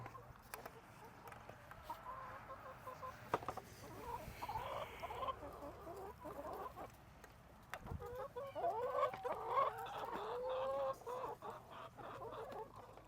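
Hens cluck and murmur softly nearby, growing busier and louder toward the end, with occasional clicks and knocks in the background.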